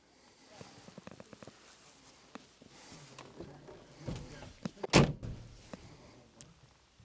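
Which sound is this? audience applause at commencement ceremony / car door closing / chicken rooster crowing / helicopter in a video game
car door closing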